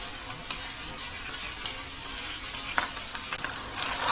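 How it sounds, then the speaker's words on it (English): Ginger, garlic, turmeric and paprika fry in a pan for an Anglo Indian chicken liver dish, giving a steady close sizzle with soft scraping strokes as the spices are stirred through. "we're going to mix those spices through, making sure that they cook nicely but they don't burn"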